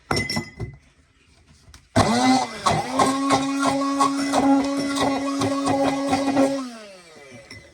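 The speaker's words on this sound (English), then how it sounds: "I'm going to use my immersion blender, and I'm going to blend them up real good." An immersion blender whirs loudly for several seconds while blending raw garlic and lemon juice in a mason jar, starting abruptly after a quiet moment and then cutting off, with no talk over it.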